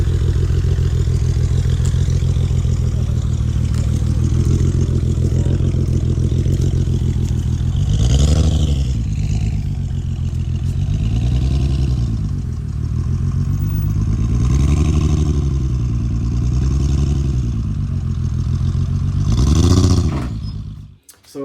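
A faulty Infiniti car engine idles roughly and unevenly, with a repeating wavering rise and fall in its tone, loud and close, ending abruptly.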